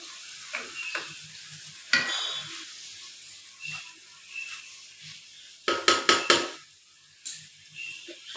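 Spring onion greens frying softly in a pan, a faint sizzle with intermittent spatula scrapes and a short cluster of sharper metallic taps near the end, no talking.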